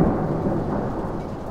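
Steady rumbling thunder rolls on through a rainstorm, loud and continuous with broad low-end energy and rain noise beneath, no voices present.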